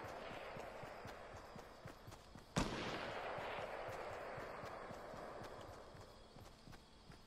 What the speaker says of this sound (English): Somebody has a sniper rifle, it sounds like.